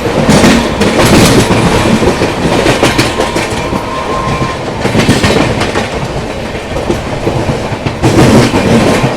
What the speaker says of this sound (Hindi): आगरा वाली लाइन से आ रही है मरुधर एक्सप्रेस